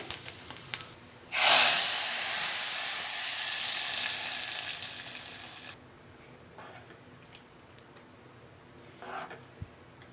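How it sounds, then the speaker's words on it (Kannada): Tempering of mustard seeds, asafoetida and onion hits hot oil for a drumstick-leaf dal. A loud, close sizzle flares up abruptly and hisses steadily for about four seconds, then cuts off, leaving quiet kitchen noise. "ನಾನು ಒಗ್ಗರಣೆಗೆ ಹಾಕಿದ್ದೀನಿ"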